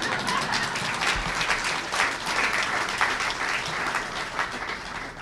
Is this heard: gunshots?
no